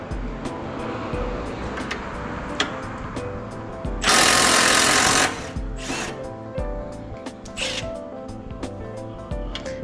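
Impact wrench on a Scion tC, spinning out 17mm control arm bolts: a loud, steady mechanical burst of about a second, with shorter bursts following over ongoing garage clatter.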